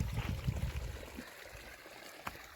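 Water runs steadily from an electric pump motor, a faint, continuous flowing rush with low rumble, heard from a short distance with no talking.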